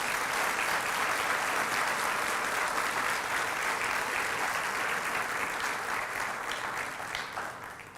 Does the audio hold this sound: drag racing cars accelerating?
no